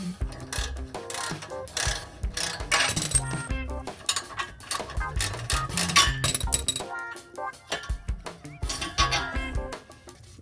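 A ratchet wrench clicks in quick irregular bursts on 12 mm and 14 mm exhaust nuts under a 2004 Subaru Impreza WRX, with metallic clinks and short pauses between turns.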